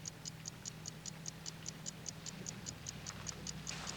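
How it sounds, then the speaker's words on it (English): A repaired watch, its broken inner part replaced by a jeweler, ticks steadily and crisply in a quiet room, a regular series of about twenty light, even clicks close by over a low hum. "You all heard it tick."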